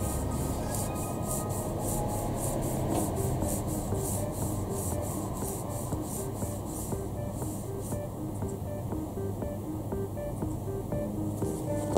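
Dry moxa material is ground by hand in a steady, rhythmic scratchy rubbing, close and continuous with a soft repeated pulse, with no talking.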